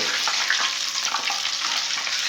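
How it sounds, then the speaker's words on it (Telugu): Curry leaves frying in hot oil while making moong dal mixture, a steady close crackling sizzle that runs without a break and has no talk over it. "ఆ నూనె వేడికే కరివేపాకు వేగిపోయింది"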